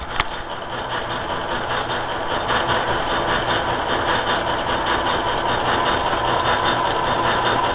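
A metal lathe runs steadily with its clutch engaged, giving off a continuous mechanical whir and hum with a fast rhythmic clatter, loud and close, with no talk over it.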